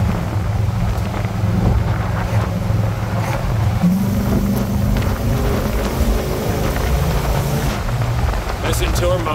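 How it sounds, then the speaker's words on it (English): A 1964 Ford Galaxie 500 XL with a 428 big-block V8 and EFI cruising at highway speed, a steady low engine drone with road and wind noise throughout, heard from inside the car. "Listen to her moan. Nothing like the sound of a big block."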